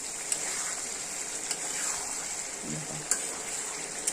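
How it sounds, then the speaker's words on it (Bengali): Soft, steady sizzle of potatoes sautéing in a pan with cumin, chilli paste, turmeric and salt, close and low, with a few light clicks of a utensil against the pan. "এই যে দেখো মশলা দিয়ে আলু কিন্তু দেখো সুন্দরভাবে কষে নিলাম।"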